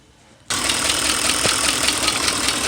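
A 5.7 V8 fitted with TBI or a carburetor, running rough with a misfire, kicks in abruptly after a quiet moment and keeps running loud and steady with uneven pulsing, no talk.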